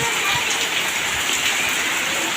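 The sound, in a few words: heavy rain pouring down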